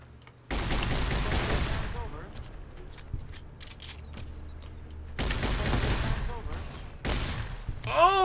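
Gunshots from the game Fallout: New Vegas, likely an assault shotgun: loud, punchy blasts fire in separate clusters with quieter gaps between, and someone talks over parts of it.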